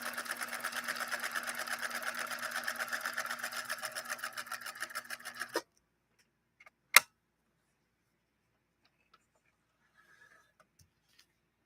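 A 1963 CL8 Rotary sewing machine stitching two layers of vinyl runs in a fast, steady mechanical rattle for several seconds, then stops abruptly, leaving near silence broken by one sharp click.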